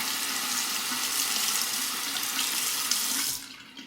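A safety razor is rinsed under a steady, close stream of running tap water that splashes continuously, then cuts off near the end.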